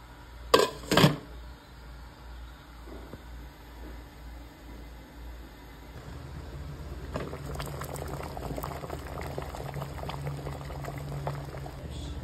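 White corn boiling in a pot: two sharp knocks at first, then a low steady simmer that swells into dense, busy bubbling through the second half, close and continuous with no talking.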